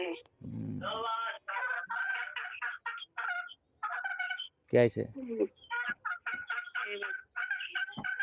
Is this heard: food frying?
no